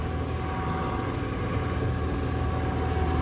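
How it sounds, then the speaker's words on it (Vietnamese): Close, steady engine running at idle, a continuous low rumble with a constant mechanical drone and no voices over it. "Đang làm máy nổ nó hơi ồn nha anh em."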